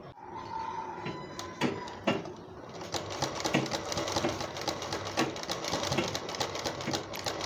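A sewing machine stitches dori piping along the edge of a neck design, with a rapid mechanical whirring run and brief clicks and pauses before settling into steady, close stitching.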